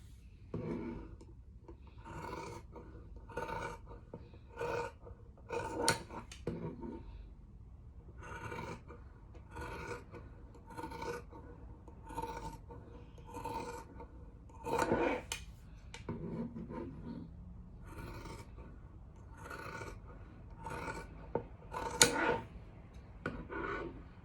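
Scissors cutting fabric along a traced face-mask pattern, producing repeated soft rasping snips in a fairly steady rhythm, close and quiet with no voices.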